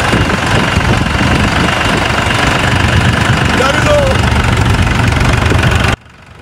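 A power-steering tractor engine runs loud and close at a field testing point in Benin, a steady rumbling idle with vibration that cuts off abruptly near the end.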